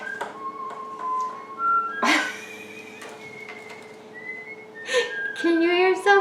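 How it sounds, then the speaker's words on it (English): Someone whistles a wandering tune of clear, sliding notes, fairly close, with a few soft knocks and clatters in the room around it. "can you hear somebody whistling?"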